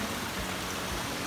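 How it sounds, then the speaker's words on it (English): Rainwater rushing down through the rocky Orridi di Uriezzo gorge after days of rain, a steady, full roar of flowing water with no break. "yeah, we have the water coming down"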